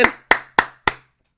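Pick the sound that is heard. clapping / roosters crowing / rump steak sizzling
clapping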